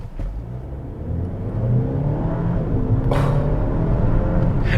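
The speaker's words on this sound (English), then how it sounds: "I'm gonna just floor it from a stop." 2023 Dodge Hornet GT AWD compact SUV launching at full throttle from a stop, its engine note swelling and climbing in pitch, then falling briefly at a sharp shift of the 9-speed automatic before pulling again, loud and close with no talking.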